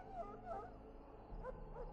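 A war dog in Dragon Age: Origins whimpers, giving a few thin, high, plaintive whines in two short pairs, close and fairly soft, with a low hum underneath.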